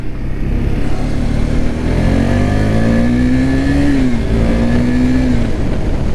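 A Yamaha R15M motorcycle engine revs hard and close, its drone climbing in pitch, dipping briefly, then climbing again over a loud steady rumble with no voices.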